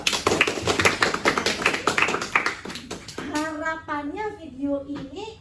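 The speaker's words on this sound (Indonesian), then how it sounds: "Nah, tepuk tangan dulu dong." A group claps at a presenter's prompt during a lecture on teaching, with brisk, loud, overlapping applause for about three seconds that then gives way to a single voice speaking.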